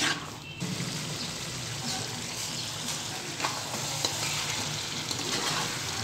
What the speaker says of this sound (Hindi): इसको हमने अच्छी तरह भूनना है।